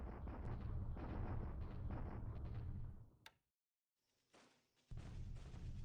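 Bombardment in the War in the Pacific video game: heavy dense rumbling barrage for about three seconds, a sharp crack, a brief silence, then another burst of booming fire.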